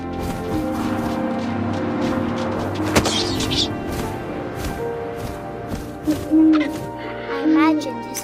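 Owl hoots sound twice near the end, low and rounded, in What Remains of Edith Finch. They come over a busy game soundscape with a sharp thwack early on and a voice speaking throughout.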